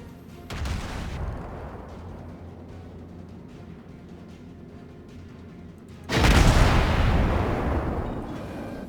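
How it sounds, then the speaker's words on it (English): Incoming naval shells in the World of Warships game, a heavy rumbling barrage at the start, a sustained lower roar, then a loud explosive burst of impacts near the end. "You can see those incoming rounds."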